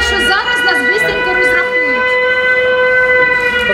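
An air raid siren sounds during an evacuation drill at a shopping mall in Kropyvnytskyi, loud and steady with rising and falling wails over constant harmonic tones, filling the whole stretch with no talk.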